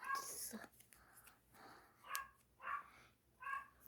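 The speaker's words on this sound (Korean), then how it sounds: "그게 우리 코코가 많이 짖어서" A small pet dog barks indoors in a few short, sharp bursts spaced across the moment, fairly quiet and close, with soft whispery breaths between.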